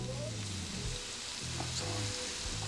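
Vegetables sizzle in a hot pan while being softened for short ribs, a soft steady frying hiss with faint low tones underneath.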